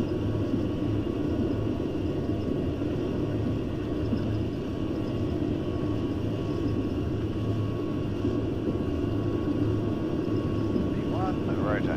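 Boeing 737 jet engines roar at takeoff thrust in a flight simulator, a constant heavy rumble and whine that holds steady throughout, with crew callouts spoken over it.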